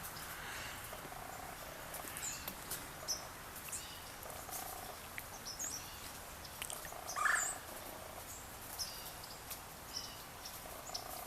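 Small birds chirp faintly and intermittently around a backyard bird feeder on a quiet morning, with short, scattered calls over a soft, steady outdoor background.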